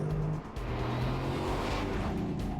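A sports car engine hums with a steady, throaty drone, smooth and continuous, heard from close by.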